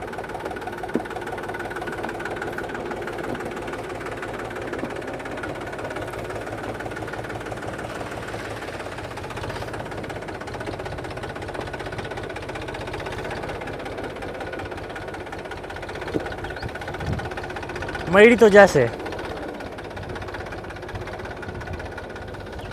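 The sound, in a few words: tractor engine running, tractor fitted with monster tyres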